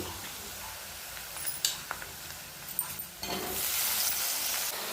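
Cut eggplant pieces drop into hot oil seasoned with turmeric, with a few faint stirring taps before a sudden, steady sizzle swells up close and continues to the end.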